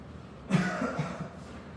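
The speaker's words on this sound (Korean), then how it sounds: "먼지가 많아서 기침한 거예요" A single close cough, dry and short, from a teacher in a classroom where chalk dust is flying, breaking a quiet pause with brief low rasping after it.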